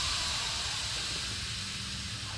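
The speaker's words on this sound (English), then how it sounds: "That's steam." Steady, loud hissing of steam in a dark sewer in the video game Outlast. The broad noise holds even for over two seconds with no speech.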